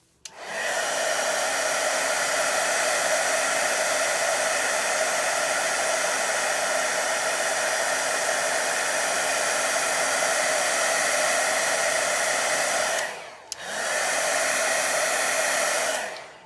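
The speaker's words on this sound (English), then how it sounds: "While your heat gun is here and still hot, just kind of twist it and make sure that everything is completely done." A heat gun blows hot air onto wax paste during stamping and embossing, a steady loud whooshing roar that runs unbroken, cuts out briefly near the end, then resumes.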